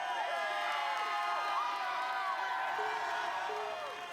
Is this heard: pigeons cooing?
no